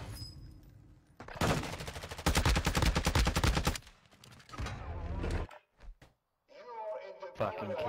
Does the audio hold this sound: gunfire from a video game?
yes